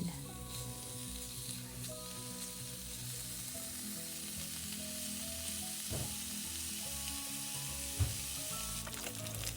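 Pork belly sizzles and fries steadily in a hot pan, a loud continuous crackle and spit with occasional sharper pops and scrapes, no voices.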